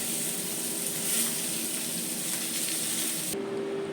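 Jerk chicken frying in a pan, a steady broad sizzle with a constant hiss, partly masked by a humming extractor fan that cuts out near the end.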